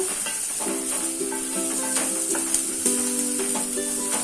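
Julienned carrots and spring onion sizzle steadily in a hot pan for a spring roll filling, a continuous close hiss with a few soft stirring scrapes and bright clinks throughout, no voices.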